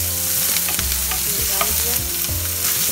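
Onion, ginger, garlic and green chilli sizzle and crackle steadily in hot oil while being stirred, with scraping and clinks of a utensil; a voice speaks briefly.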